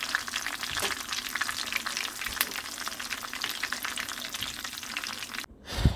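Steady crackling sizzle of beef and shrimp burritos frying in a hot pan, loud and close, continuing without pause until it cuts off near the end.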